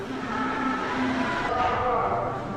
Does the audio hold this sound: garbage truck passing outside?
yes